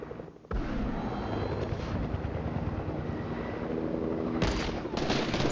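Video game gunfire under a steady loud roar of engine or helicopter noise, with a sharp crack near the start and a couple of brief bursts toward the end.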